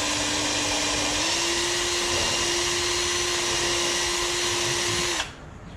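A power drill with a slightly undersized bit runs continuously at steady high speed during an epoxy flats skiff boat build, loud and close with a constant whine, then cuts off abruptly near the end.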